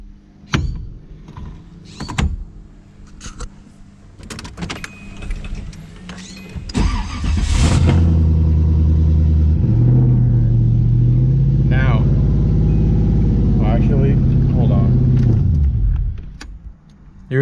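A Nissan 240SX fitted with an LS engine: scattered clicks and door or key noises come first, then the V8 fires up and runs loud and close for about nine seconds with slight rises in pitch before shutting off.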